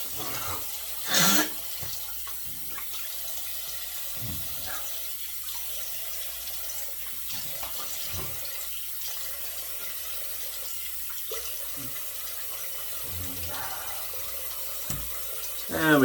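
Tap water runs steadily into a sink while someone rinses off after a mild shave with a Broman MK 2 SE razor and shaving soap, a low continuous wash with a few brief splashes and clunks.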